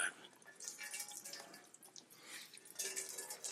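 Water trickles and drips from cauliflower mash being wrung out tightly in a cloth, faint irregular splashes and dribbles in a kitchen with no talking.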